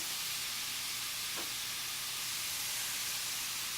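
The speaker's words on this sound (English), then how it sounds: "when I'm browning meat, I like to brown the meat with the pepper and salt versus putting it on afterwards" Meat seasoned with pepper and salt browns in a pan, giving a faint, steady sizzling hiss with one small clink partway through and no talk.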